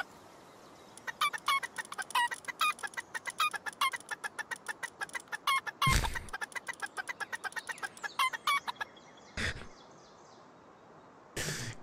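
Chikipi chickens in Palworld cluck in quick, rhythmic bursts of sharp, clicky calls, close and fairly loud, broken by a few louder thumps and brief pauses near the end.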